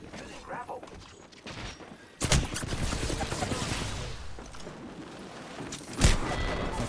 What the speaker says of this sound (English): I am taking fire, friends.